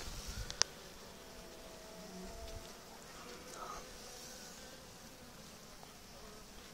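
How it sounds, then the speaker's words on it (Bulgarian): Bees buzz faintly around a beehive outdoors, a soft continuous drone with a brief sharp click near the start and light background noise. "Следващото има пчела, човек."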